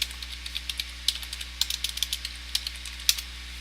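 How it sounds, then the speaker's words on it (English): Typing on a computer keyboard, a quick irregular run of crisp key clicks close by over a low steady hum, with no talking. "I'll type it"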